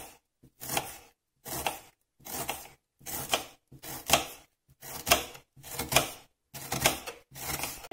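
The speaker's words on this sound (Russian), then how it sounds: "Также нарезаем бычок тоненькими полукольцами" Rhythmic crisp cuts of a knife slicing an onion into thin half-rings, about ten even strokes, each a sharp crunchy burst against a board, close up.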